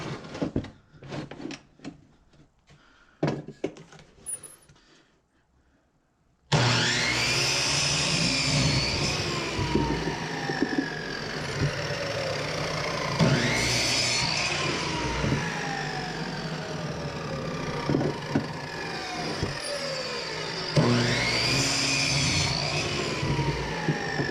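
Quiet handling clatter gives way to a miter saw set at 45 degrees cutting wood for cornhole board legs, with about three loud, close cuts in a row, each with a motor spin-up and a falling wind-down.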